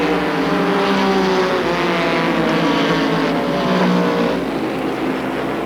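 Stock race cars circle Jennerstown Speedway in a 1988 BGNN race, a continuous loud engine roar with steady tonal drone, heard from a distance without a break.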